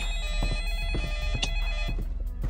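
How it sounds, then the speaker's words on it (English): Telephone ringing in the horror video game Specter on hard difficulty, a loud repeated electronic ring that pulses steadily over a constant low game hum, with no talking. "I'm not answering the phone."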